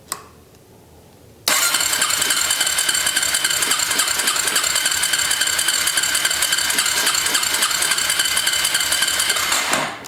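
A Suzuki LTZ250 Sport quad's engine cranks loudly and steadily, with a continuous churning rattle that starts abruptly after a short quiet lead-in and runs unbroken to the end.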